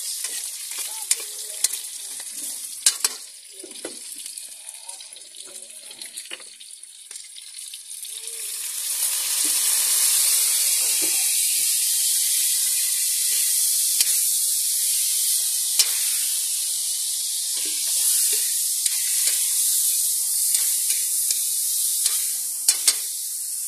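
Adobo sizzles steadily in a hot pan while a utensil scrapes and clinks through it, the frying hiss swelling louder about midway and holding with occasional stirring knocks.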